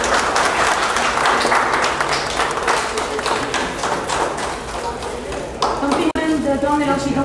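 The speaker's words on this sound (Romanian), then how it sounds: "Aplaudăm pe Roxana" Audience applause at an art exhibition event, dense and steady clapping that fills the room, with a voice speaking over it and the clapping thinning out near the end.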